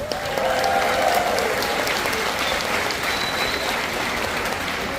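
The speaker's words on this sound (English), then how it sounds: "let's give them all a big, big round of applause" A big round of audience applause for military veterans aboard the Royal Caribbean cruise ship Symphony of the Seas, a loud sustained crowd clapping with faint voices and a brief whistle mixed in.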